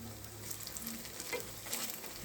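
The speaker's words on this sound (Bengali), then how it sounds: "এখন আমি উল্টিয়ে দিতেছি উল্টিয়ে এভাবে একটু চেপে চেপে দিব" Shrimp and lentil fritters fry in oil and are flipped and pressed down in the pan, giving a continuous, fairly quiet sizzle with light scraping touches from the spatula.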